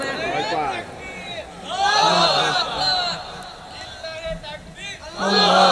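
A crowd at an Islamic religious gathering chants the takbir with raised hands, loud massed voices rising in repeated surging shouts with short pauses between them.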